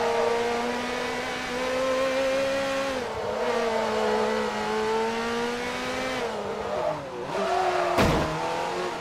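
Race car engine in Forza Motorsport 3 holding a loud, steady high-revving drone with shifting pitch, dipping briefly at gear changes and ending with a sharp burst near the end.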